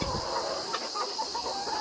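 Ready-to-lay chickens on a small poultry farm cluck softly in a steady background murmur, a few faint calls over a constant hum.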